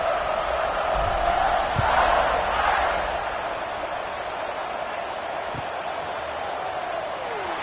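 A football stadium crowd roars in a broad, steady wash during a kickoff, swelling briefly early on and then settling into a sustained distant rumble.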